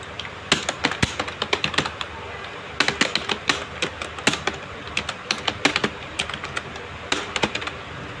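Quick irregular clicks of typing on a computer keyboard, close and moderately loud, coming in short bursts with brief pauses between keystrokes.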